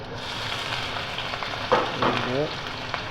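Chopped onion and capsicum fry in a hot pan for upma, a continuous soft sizzle with brief stirring scrapes partway through, fairly close and without talk.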